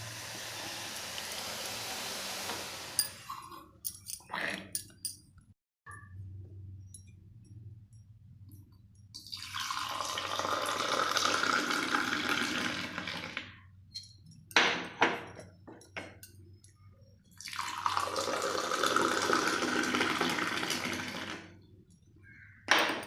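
Strong South Indian filter coffee is poured back and forth between vessels to cool and froth it, three long splashing streams separated by clinks and taps of the metal cups, close and clear with no talking.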